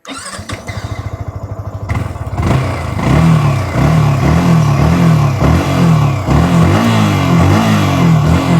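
Yamaha R15 V4 motorcycle engine starting and then revving repeatedly, loud and close, with each throttle blip rising and falling in a quick regular rhythm.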